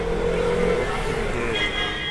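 A 2012 Hero Honda Passion motorcycle engine runs with a steady, fairly loud mechanical drone at a used-bike dealer for about two seconds, with voices in the background.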